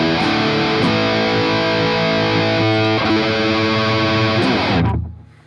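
Electric guitar through a Boss MT-2 Metal Zone distortion pedal with treble cut low and bass boosted plays heavy, saturated chords and riffs, loud and alone, ringing out before cutting to silence.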